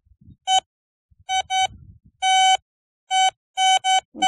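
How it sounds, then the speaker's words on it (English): A metal detector set to sensitivity 8 and discrimination 4 gives out a strong signal as a loud electronic tone, sounding in seven short clean bursts of uneven length with brief silences between, heard close and alone. "A strong signal right here. Let's listen to it real quick. The metal detector is on."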